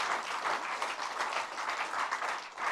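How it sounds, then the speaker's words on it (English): Audience applause at a live talk show event, a steady, dense wash of many hands clapping that holds at an even level throughout with no voices on top. "Then clap for yourselves."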